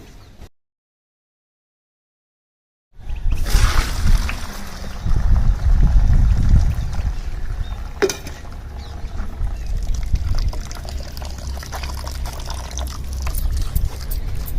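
After a brief silence, water pours and trickles steadily as it drains from ration rice through a sieve, a close splashing flow that continues to the end.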